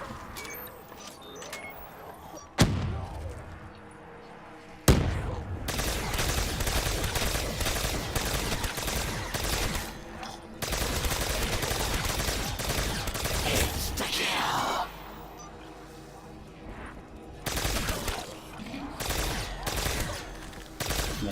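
Call of Duty Zombies round 50 on Nacht der Untoten, with the Ray Gun Mark II firing steadily at zombies in dense, continuous bursts. Sharp cuts and dips break up the shooting, and game noise stays busy throughout.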